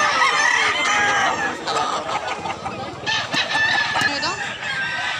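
Roosters at a gamefowl market in Mantalungon, Barili, Cebu crow loudly and close, with clucking fowl and overlapping crows from several birds. Faint talk sits in the background.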